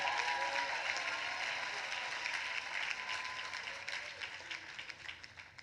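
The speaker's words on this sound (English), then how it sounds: "that itself deserves applause and celebration" A commencement ceremony audience breaks into sustained applause, a dense wash of clapping heard at a distance that gradually thins toward the end.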